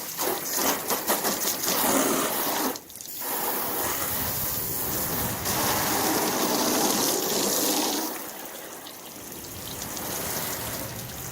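Water sheets and runs off a freshly waxed car panel in a steady rushing splash that breaks briefly, then continues and eases toward the end.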